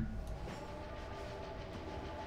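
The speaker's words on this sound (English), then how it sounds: "here comes the train" A heavily armored train approaches in the World War II shooter Enemy Front, a low, rumbling drone with a steady horn-like tone running through it, fairly loud and continuous with no voices.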